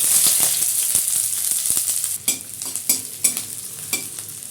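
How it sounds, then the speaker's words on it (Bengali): Long-sliced onions fry in hot mustard oil with a bright, steady hiss, then a run of sharp stirring clacks and scrapes follows, close up with no voices. "স্লাইস করা পেঁয়াজগুলো দিয়ে দিলাম"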